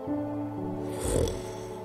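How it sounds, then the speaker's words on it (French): Cattle snoring, a deep rumbling snore with a droning tonal rasp that swells into a louder breathy snort near the end, close and alone. "leur ronflement sonnait à son oreille comme une berceuse"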